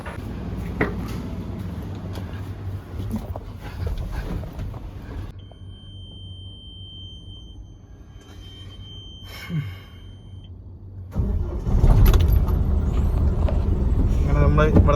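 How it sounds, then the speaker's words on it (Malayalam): Voices talk, then after a quieter stretch a truck engine turns over and settles into a loud, close rumble. "നമ്മൾ വണ്ടി സ്റ്റാർട്ടാക്കി"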